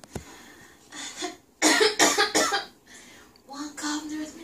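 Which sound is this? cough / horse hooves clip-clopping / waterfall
cough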